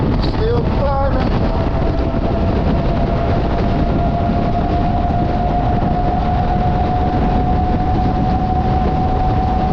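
A Teewing Mars XT dual-motor electric scooter runs at speed in 5th gear. A steady, high motor whine holds above loud, continuous wind rush across the whole stretch, with a brief voice near the start.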